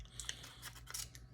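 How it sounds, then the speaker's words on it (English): Leatherman Surge multitool scissors snip a few times in quick, faint, crisp cuts over a low background hum. "So let's see how the scissors work."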